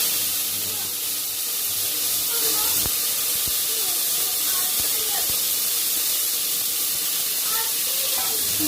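Flat beans hit hot oil already spiced with cumin seeds, dried red chillies and bay leaves, giving a loud, steady sizzling hiss throughout with a few faint clicks of stirring.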